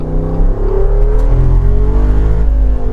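The 392 V8 engine of a 2022 Jeep Wrangler Rubicon revs up close, rising and falling in pitch with a deep throaty growl, loud and continuous.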